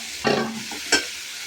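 Onions sautéing in a pan for beetroot poriyal, with a steady low sizzle and two distinct scraping stirs of a spatula, one heavier than the other, close and clear with no voices.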